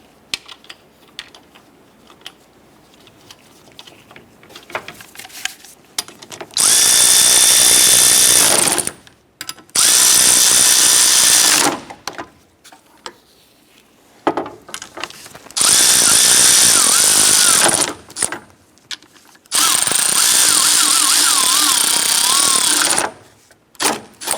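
Power tool tightening the cooling fan bolts on a 1993-1997 Ford Ranger, four loud sustained bursts of buzzing impact rattle separated by quiet pauses with light handling noise.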